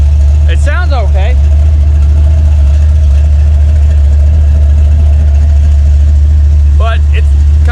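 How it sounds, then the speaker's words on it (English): A stock small block Chevy 350 V8 from a 1994 truck, fitted with an aftermarket cam, idles with a loud, steady low rumble close by. A couple of brief high chirps sound over it. "it's like probably a stock small block Chevy 350 out of like a 94 truck that they put a cam in it. It sounds okay."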